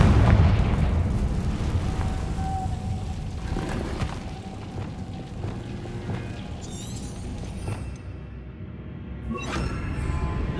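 Hogwarts Legacy's Confringo blasting spell erupts in a loud, close explosion, followed by rolling booms and crackling bursts that rumble on and fade, then flare again near the end, with no voices.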